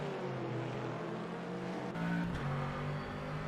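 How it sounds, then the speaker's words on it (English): A Chevrolet GT3 race car engine in the rFactor 2 sim racing game at Mount Panorama drones faintly with a deep, steady tone, briefly rising in pitch as it shifts partway through. "listen to the bass of that Chevrolet engine there"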